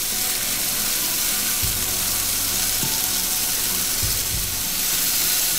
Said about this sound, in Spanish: Traten de voltear los tomates de vez en cuando, que no se queden solo en una posición, para que no se les vaya a quemar de ese lado.